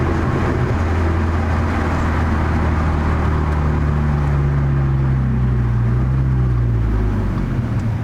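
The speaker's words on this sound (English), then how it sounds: "I'm going on an on-ramp onto the highway." A tuned Audi A4 B-series with a 300 hp Stage 2 tune accelerates up a highway on-ramp, its engine drone climbing steadily in pitch under heavy road and wind noise, loud and continuous throughout.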